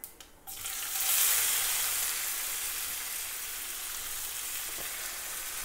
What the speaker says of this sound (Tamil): இந்த நேரத்தில் நம்ம வெங்காயத்தை போட்டுருவோம்.